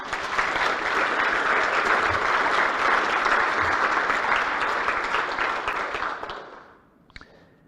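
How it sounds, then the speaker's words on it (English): An audience at the Guild of One-Name Studies 2019 annual general meeting applauds, dense sustained clapping for about six seconds that fades away and ends with a faint knock. "I think they deserve a round of applause"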